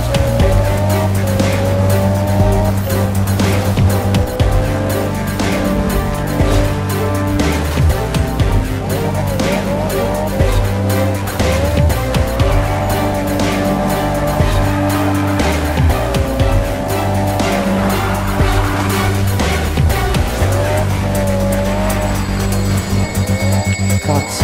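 A racing car in the Need for Speed video game revs hard and continuously, its loud engine note rising and falling while tires squeal through the turns.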